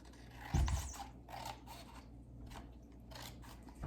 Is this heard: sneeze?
no